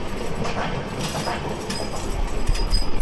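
An express train on a Bangladesh rail line, the Panchagarh–Dhaka route, rushes past a stationary train as a steady, loud rumble with rattling wheels and faint clicks, swelling toward the end.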